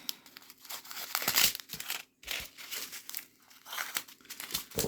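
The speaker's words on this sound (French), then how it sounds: "Alors, je coupe des sachets." Small plastic bags of diamond painting drills being snipped open, close crinkling and crackling of thin plastic in irregular bursts with a brief pause partway through.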